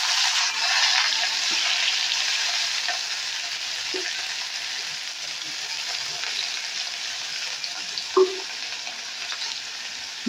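Garam masala and chopped onion fry in a mix of ghee and oil for chire pulao, producing a steady hissing sizzle with a couple of soft utensil knocks and no talk.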